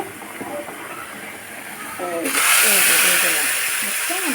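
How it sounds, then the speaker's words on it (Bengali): Vegetables are tipped into a hot pan and sizzle with a sudden loud hiss that starts midway and keeps going strongly, while a voice talks throughout. "এখন আমি আমার সবজিটা ঢেলে দিব"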